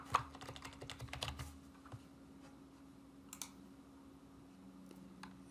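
Quick bursts of keystrokes on a computer keyboard, clustered at the start and again briefly after a pause, close clicky taps over a low steady hum, with no voices.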